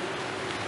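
Rain comes down in Araullo as a steady broadband hiss, even and unbroken for under a second, with a faint low hum running beneath it.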